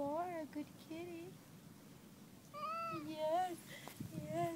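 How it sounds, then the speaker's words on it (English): A blue-eyed seal point Siamese cat meows repeatedly, its calls rising and falling in short bursts close by, while someone speaks softly to it in between and over the meows. "Yes, you are a good kitty."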